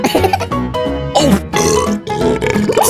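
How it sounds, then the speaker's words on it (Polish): A long, loud, drawn-out burp rolls on for several seconds with grunting, gurgling breaks and shifts in pitch, heard up close during a chocolate food challenge. "Co za beknięcie!"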